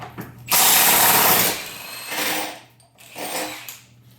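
A pneumatic impact gun loosens subframe bolts on a 2011 GMC Acadia during engine removal, firing in three loud bursts, a long first rattle then two shorter ones, with a steady hum underneath.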